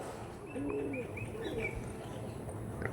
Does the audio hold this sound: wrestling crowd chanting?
no